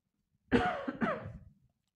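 A single close cough during a spoken lecture on remote teaching, two quick throaty bursts about half a second apart, then silence.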